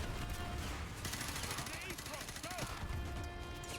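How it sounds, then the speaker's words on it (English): Rapid gunfire in Call of Duty: Modern Warfare 2, a dense rattle of automatic shots and bursts, fairly faint and continuous under game noise and brief voices. "They're shooting at me."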